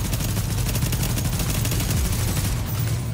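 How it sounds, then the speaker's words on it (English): Continuous automatic gunfire in The Division's Dark Zone near an extraction area, with dense rapid shots rattling loudly and evenly throughout, close and unbroken. "Shooting them from behind."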